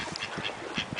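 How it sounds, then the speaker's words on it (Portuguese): Ducks by a riverbank give several short quacking calls in an irregular rhythm, fairly close and moderately loud against outdoor background noise. "olha os patinhos"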